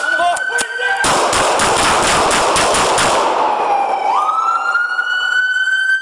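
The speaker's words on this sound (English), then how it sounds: "Shot fired" A rapid burst of gunshots fired by police officers in a parking ramp, loud and close, cutting through a wailing emergency siren that keeps sounding after the shots stop.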